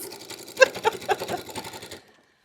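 A sewing machine stitches a bag made from dish drying mats and bandanas, running in a quick steady rhythm of needle strokes for about two seconds, close and clear, then stopping abruptly.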